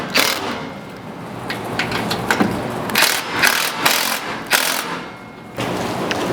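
Hex key ratcheting and tightening 3/8 button head bolts on a JT Gladiator HD bed rack, a series of close, uneven metallic clicks and scrapes with a few sharper bursts and no talking.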